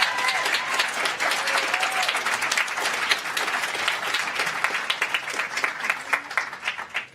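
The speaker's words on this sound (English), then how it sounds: "I think we can do a better round of applause for this group on stage." Sustained audience applause fills a health forum hall at the UN General Assembly, steady dense clapping from a large crowd throughout, loud and close.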